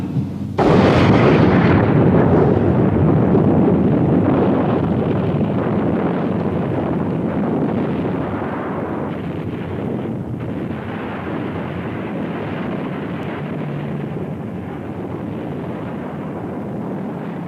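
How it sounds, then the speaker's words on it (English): A hydrogen bomb test explosion erupts with a sudden, massive blast, then a long rumbling roar that slowly fades over more than fifteen seconds, loud and wind-buffeted. "the most powerful weapon in human history, a device which uses fusion processes almost identical to those in stars, the hydrogen bomb"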